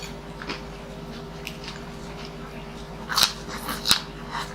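Someone chews super crunchy food up close, with a few sharp crunches near the end over a faint background hum.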